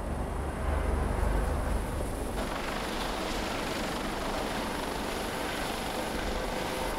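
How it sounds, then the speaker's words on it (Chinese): A helicopter approaches to land on a coast guard patrol ship at sea during routine training, its steady rotor and engine roar loud and continuous throughout with no talk. "做我们的例行性的直升机训练作业"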